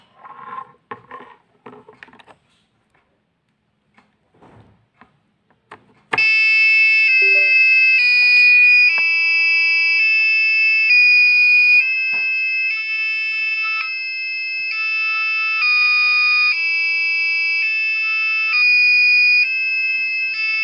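A few faint clicks and taps give way to a loud, continuous electronic train station bell tone from an ATmega328P microcontroller circuit, steady and ringing with a shrill, buzzing edge.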